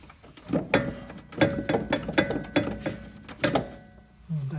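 Socket wrench ratcheting to start a nut on the rear adjustable camber arm suspension of a 2006 Mazda 5, a series of close, sharp metallic clicks in short irregular bursts, with a brief low voice at the end.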